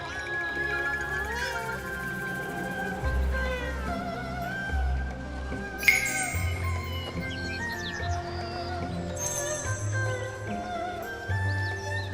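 Cats meow among game ambience in Where Winds Meet, several short calls scattered over a steady bed of background music and bird-like chirps, moderately close and continuous.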